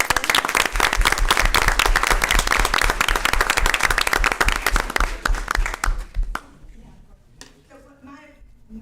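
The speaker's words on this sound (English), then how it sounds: "we need to give them a huge round of applause." A school board meeting audience gives loud, dense applause for multi-year state champion swimmers, sustained for about six seconds before tapering off into scattered claps and murmuring voices.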